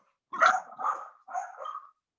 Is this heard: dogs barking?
yes